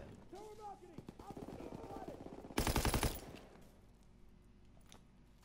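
Automatic weapon fire in a World War II shooter game erupts in a loud, rapid burst lasting about half a second, amid game chatter and sound effects, then fades into background noise.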